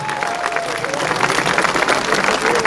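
An outdoor summer festival crowd applauds a concert, a thick steady clapping from many people with some cheering mixed in, lasting the full few seconds.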